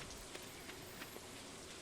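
Steady soft rain in the farming video game Stardew Valley, a constant even patter with a few faint droplet ticks, no voices over it.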